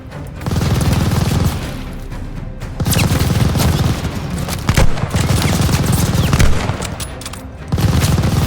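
Call of Duty: Vanguard combat gunfire: repeated automatic bursts and sharp shots in clustered volleys, loud and close, with a heavy crack near the middle and steady battle noise between bursts.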